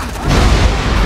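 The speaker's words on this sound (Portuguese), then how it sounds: "Nossa, explodiu." A short, loud, deep booming blast from an explosion in Dead Rising 3, with a heavy low rumble that fills the whole moment.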